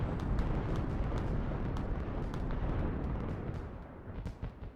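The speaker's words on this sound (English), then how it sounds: "The whole sky is like filled with fireworks." Fireworks going off in the video game Fireworks Mania, a dense, continuous rumble of booms and crackling bursts filling the sky, loud and steady throughout before easing slightly near the end.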